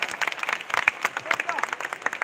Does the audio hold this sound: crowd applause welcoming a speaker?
yes